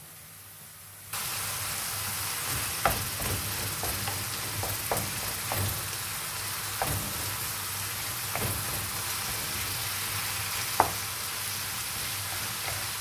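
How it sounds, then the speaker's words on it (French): Meat frying in a pan is stirred, a continuous close sizzle with several sharp scrapes and clinks of the utensil against the pan at irregular moments, without talking. "On mélange bien."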